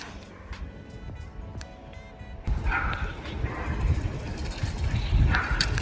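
A dog barks a few times with short yips, fairly close, over outdoor background noise.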